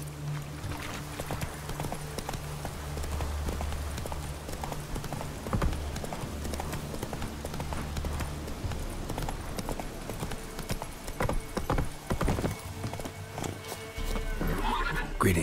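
Horse in The Witcher 3 video game, hooves clip-clopping at a steady galloping rhythm throughout with a loud neigh near the middle, heard up close over a background game ambience without talking.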